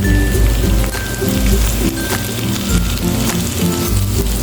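Sliced tomatoes hit a hot pan of sautéed onion and garlic for ginisang monggo, a steady loud sizzle and crackle with music playing underneath.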